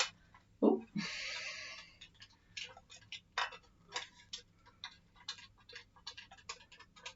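Clock ticking steadily and close, a regular tick-tock pulse with a brief louder rustle near the start, no talk.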